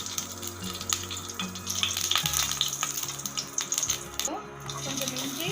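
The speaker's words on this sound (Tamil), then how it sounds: "இதில் வதக்கிறதுக்கான தேவையான எண்ணெய் சூடானதும் கொஞ்சம் சோம்பு ஆட் பண்ணிக்கலாம்" Fennel seeds sizzle in hot oil in a pan, giving a close, crackling hiss with intermittent stirring clicks and a watery bubbling texture that fades and returns.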